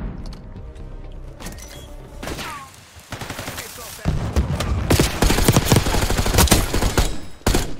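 Gunshots in Call of Duty Black Ops 6 ring out in loud, rapid volleys, dense automatic fire with sharp single cracks toward the end, mixed with game noise and a player talking excitedly.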